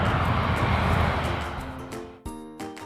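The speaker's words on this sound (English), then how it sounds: "It's an airplane." An airplane flies past in a sound-guessing game for kids, a broad engine roar that is loudest at first and then fades away, with a few short tonal sounds near the end.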